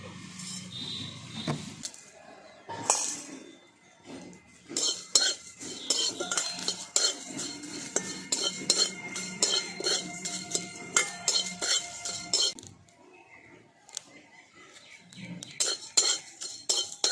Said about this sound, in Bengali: এখন মশলাগুলো ফুটফুট করে ফুটতে আরম্ভ করে দিয়েছে মানে ভাজা হয়ে গেছে